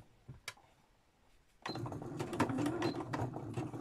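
A sewing machine stitching small art journals runs fast in a close, steady whirring burst after a few light clicks, without talk.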